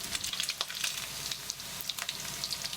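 Sliced pork belly frying in its own fat until crisp, a dense bright crackle of rapid spattering pops over a continuous sizzle, fairly faint and without talk.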